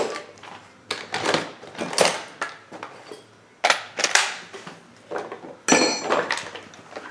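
Tearing down a Stihl MS 391 chainsaw, with sharp clacking metallic taps and rattles sounding as the clutch is worked off, about a dozen distinct close hits spread unevenly, fairly quiet, no speech.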